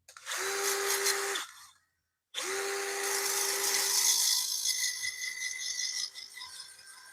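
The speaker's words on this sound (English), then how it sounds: "let's get a little bit of sanding on the inside just to kind of smooth out a bit" Sandpaper pressed against the inside of a spinning wooden bowl on a lathe gives a steady, close whirring hiss over a constant motor hum, cutting out briefly near the start before resuming.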